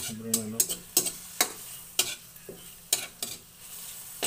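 Squid and vegetables stirred and sautéed in a pan for coconut-milk squid, with repeated sharp scraping strokes of a utensil over a steady sizzle, close by and with no talking.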